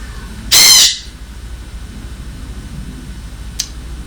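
A pet parrot named Bozmo lets out one loud, harsh squawk at close range, followed by a second much shorter and fainter squawk a few seconds later over quiet room noise.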